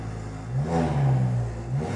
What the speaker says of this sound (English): Good sounding engine, but maybe a tad loud